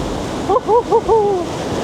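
Ocean waves surge over rocks as a steady, close wash of surf, with a few short chirping calls sounding over it.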